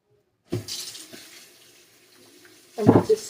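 Bloody water drained from raw meat splashes and pours into a sink in two bursts, a short one at the start and a heavier gush near the end, with quieter trickling between.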